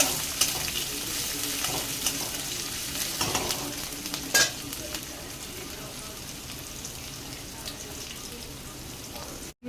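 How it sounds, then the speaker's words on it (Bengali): Green chili and small onions fry in a pan, a steady close sizzle like light rain with stirring scrapes and a couple of louder spatula knocks. "রান্না চালু করে দিয়েছে সেখানে লঙ্কা দিয়ে দিল লঙ্কার পর ছোটো পেঁয়াজটা দিয়ে দিল"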